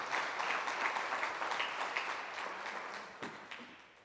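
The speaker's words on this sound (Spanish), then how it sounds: "¿Cuántos quieren dar una ofrenda de palmas si lo están aceptando?" A church congregation applauds during a Spanish-language sermon, sustained even clapping from many hands that gradually thins and fades, with a few sharper claps standing out near the end.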